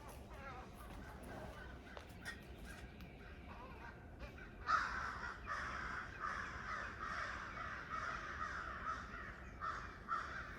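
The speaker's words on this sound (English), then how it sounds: "These big black birds, crows or something, were like fighting each other." Big black crows fight each other outdoors, letting out repeated loud harsh caws in rapid bursts at mid distance, with faint talking underneath.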